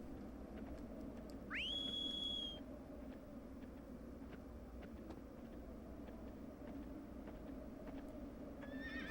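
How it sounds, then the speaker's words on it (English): A horse-call whistle rings out in a video game, a single rising tone held for about a second, and then a horse whinnies faintly over a steady low ambient hum. "Ah, that whistle. Sound design on that's great."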